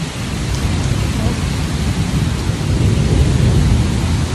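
Heavy rain pours down steadily while deep thunder rolls underneath, a dense, loud wash of sound with no clear voices.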